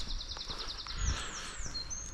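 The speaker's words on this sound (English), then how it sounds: "all the different sounds of birds you can hear" Birds sing outdoors along a countryside walk, a rapid series of high repeated chirps followed by sliding whistled notes, faint and somewhat distant over a soft background rumble.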